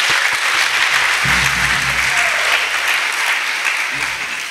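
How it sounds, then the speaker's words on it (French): Congregation applauding and acclaiming during a church healing and salvation service in Séguéla, with steady broadband clapping throughout and a faint voice under the crowd noise. "Acclamation à Jésus-Christ."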